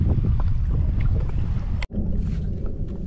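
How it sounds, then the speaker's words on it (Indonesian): Strong wind buffets a small fishing boat at sea on a bottom-drift fishing trip, a loud continuous rumbling roar with one brief cutout midway. "Padu guys. Angin kuat ni."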